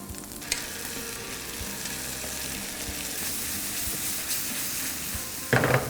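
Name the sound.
tomato sauce added to seasoned beef in pan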